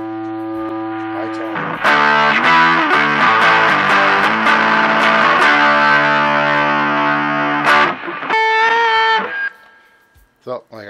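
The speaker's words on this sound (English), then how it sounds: "high distortion. All the way." Electric guitar chords played through a distortion pedal set to high gain into a TASCAM DP24/32 virtual amp, loud and saturated, strummed repeatedly before a brief higher riff and a fade to quiet.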